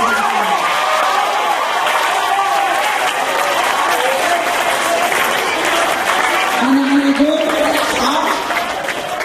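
An audience at a school Maulid celebration at SMPN 1 Sumenep claps loudly and continuously for about nine seconds, with some crowd murmur and a few voices rising within the applause.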